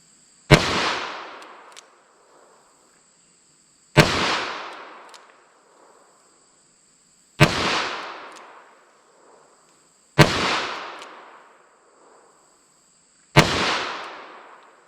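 Five loud, sharp gunshots from a Smith & Wesson Model 69 .44 Magnum revolver, each a close booming crack with a short decaying echo, spaced about three seconds apart.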